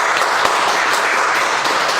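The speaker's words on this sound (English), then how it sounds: "Give him a round of applause." An audience at a real estate investors meetup applauds a presenter, with dense, steady clapping from many hands filling the room at an even volume throughout.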